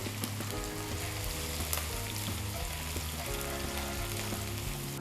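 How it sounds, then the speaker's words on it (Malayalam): Chopped garlic, ginger, curry leaves and four long-slit green chillies frying in a pan for Kerala-style chicken roast, giving a steady, loud, close sizzle with light stirring scrapes throughout and no talk. "ചോപ്പ് ചെയ്ത 1 ടേബിൾ സ്പൂൺ ഗാർലിക്ക്, ചോപ്പ് ചെയ്ത 1/2 ടേബിൾ സ്പൂൺ ജിഞ്ചർ, നീളത്തിൽ കട്ട് ചെയ്തെടുത്ത 4 ഗ്രീൻ ചില്ലിയും കൂടി ഇട്ട് നമുക്ക് നന്നായിട്ടൊന്ന് കുക്ക് ചെയ്തെടുക്കാം."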